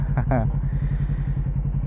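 A motorcycle engine idles with a fast, even pulsing throb, close by, after a short voice at the start.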